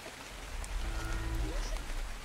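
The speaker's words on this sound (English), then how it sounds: "Why is the rain still going on?" Steady light rain falls in the game Ark Survival Evolved, a soft hiss with low rumble under it. It stays faint and even throughout, with a brief tonal blip partway through.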